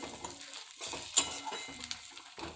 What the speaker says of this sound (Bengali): মাছের তেল ভাজাটা আমার হয়ে এসছে